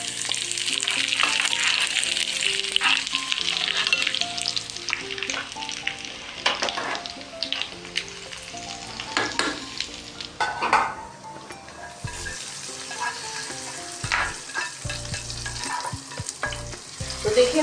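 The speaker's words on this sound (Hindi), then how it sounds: "अब हम डाल रहे हैं ज़ीरा और ये कड़ी पत्ता" Cumin seeds and curry leaves hit hot oil for a tadka over whole red chillies while making kadhi pakora, giving a loud, steady sizzle and crackle that runs the whole time, with spoon stirring and pot clinks mixed in.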